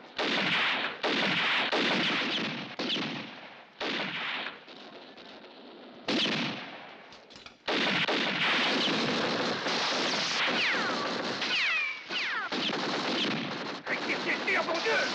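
Machine gun fire in a western film: rapid bursts of gunshots come in loud, repeated volleys separated by brief pauses, with some voices mixed in among the shooting.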